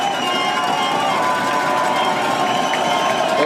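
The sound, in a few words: football stadium crowd cheering after a touchdown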